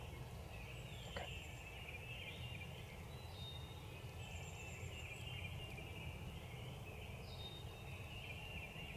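Wild turkeys in Ohio gobble in repeated short bursts at a distance, faint against a steady background hiss of outdoor ambience.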